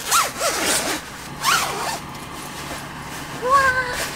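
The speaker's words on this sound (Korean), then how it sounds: "저는 이 커버가 상면이 지퍼로 되어 있는 게 굉장히 마음에 들어요." A zipper is drawn open along the top of a mesh mosquito net cover on a car, making several close, raspy zipping strokes in short bursts, with quiet voices partly underneath.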